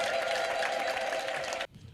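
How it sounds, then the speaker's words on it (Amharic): A church congregation claps and ululates in a dense, steady wash of applause with a high warbling trill held over it for under two seconds, then breaks off abruptly into near silence. "እልልታ፣ ጭብጨባ ለጌታ።"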